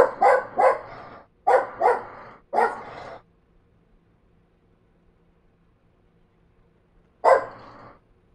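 A house dog barks loudly and close by. Five sharp barks come in quick pairs, then a few seconds of near silence, then one last bark.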